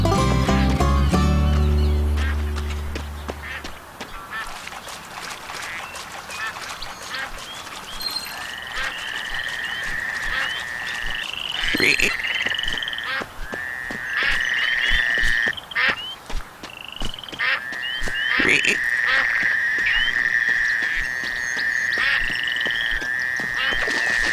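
Frogs croak in a swampy scene from the Duck Dynasty video game, a series of raspy calls repeating after an opening low rumble, mixed with quack-like game effects and short clicks.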